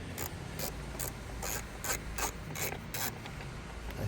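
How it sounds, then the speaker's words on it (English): A driver turns out T25 screws on the cabin filter cover of a Mercedes-Benz GLE 400, giving faint, close, repeated ratcheting clicks and scraping over a quiet background. "So we're gonna unscrew 4 screws."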